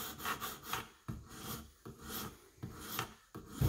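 A Case knife blade being sharpened on a KME precision sharpening kit: quiet, close rasping strokes of stone on steel, repeated in an uneven back-and-forth rhythm of about six passes, with no talking.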